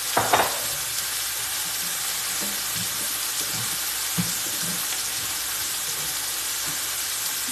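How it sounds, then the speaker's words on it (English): Pasta water pours out into a sink to drain cooked pasta, a steady hissing rush of liquid with a few light clanks of the pot near the start, continuous and fairly close, no talk. "So I drain my pasta."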